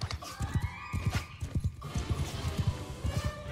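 Horses galloping in the medieval battle game Mount & Blade II: Bannerlord, a rapid, loud run of hoofbeats with a horse neighing partway through, close and continuous.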